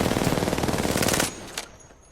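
Rapid automatic weapon fire in a video game, a dense rattling burst of shots for over a second that cuts off abruptly, followed by one last single shot and a short fading tail.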